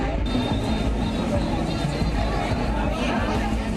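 Pilgrims crowd a jammed stretch of the Char Dham route, a dense murmur of many voices mixing with street noise, steady and close.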